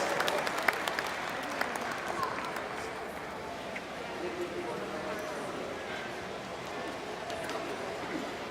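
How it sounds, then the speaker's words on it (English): An audience applauds at a ranch chore team competition finals, sustained clapping from a crowd that starts strong and gradually thins, mixed with chatter and an announcer's voice. "Give him a big, big round of applause, would you?"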